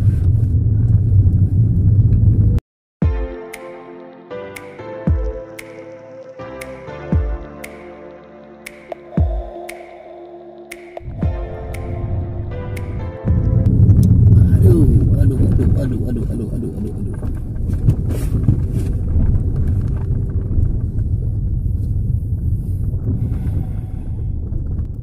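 Car rumbling along a rough, damaged rural road toward a waterfall, with loud low engine and road rumble, repeated jolts and bumps, and wind buffeting the microphone; people talk over it throughout.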